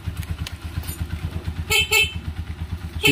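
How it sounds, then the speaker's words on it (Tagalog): Horn of a Honda TMX 125 Alpha motorcycle with a weak battery, giving short, feeble honks over a steady idling engine rumble, two close blasts in the middle and another at the end. "Sige nga, busina ka nga."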